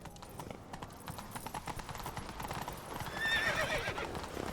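Rapid hoofbeats of a galloping horse in the Witcher video game drum steadily, then a sharp whinny rings out near the end, loud and close.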